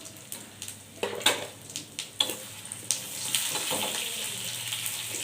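Chopped ginger, mustard seeds and whole cumin hit hot ghee in a pan, giving a steady crackling sizzle with scattered sharp pops and spits, close and fairly quiet with no talking.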